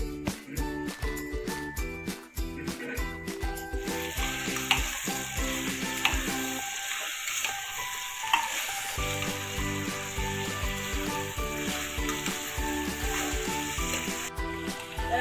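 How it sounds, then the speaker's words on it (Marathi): Elephant foot yam flower sautéing in oil in a pan, with a continuous frying hiss and sizzle under repeated metallic clinks of a spatula or spoon stirring against the vessel, steady throughout with a brief quieter stretch midway. "आता हे सुरणाचं फूल जे आहे ते घालायचं आहे आणि हे फूल जे आहे ते आपल्याला 5 मिनिट परतून घ्यायचं आहे तेलामध्ये"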